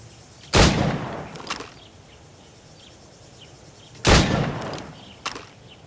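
Gunfire at training targets in Assassin's Creed Rogue: two sharp, loud shots about three and a half seconds apart, each followed by a fainter crack or echo, with quiet ambient background between them.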